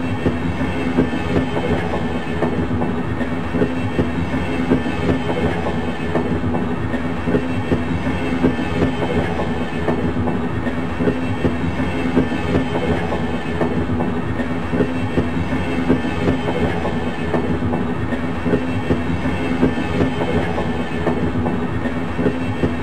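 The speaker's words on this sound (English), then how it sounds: "This automated train is provided for the security and convenience of the Black Mesa" A steady rumbling ride aboard the Black Mesa automated transit train in the Half-Life video game, with continuous rolling rail noise and a regular clickety-clack pulse running throughout, loud and unbroken.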